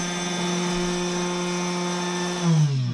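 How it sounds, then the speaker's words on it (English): A CNC milling machine's spindle spins up and runs, a steady tonal whine with a hum beneath, loud and close, dropping in pitch near the end. "Let's try also the spindle to make sure that also the spindle is working perfectly."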